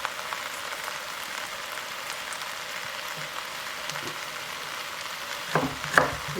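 A couple of garlic cloves fry in a pan with a steady soft sizzle and crackle, close and moderately quiet, with a few louder spatters near the end.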